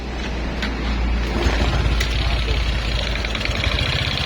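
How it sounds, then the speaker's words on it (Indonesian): A Honda Supra X 125 motorcycle engine with a rough-running fault and a weak battery idles up close, giving a loud, continuous low rumble with an uneven, chugging throb. "Suara mesinnya ada kayak suara mesin dompeng nih"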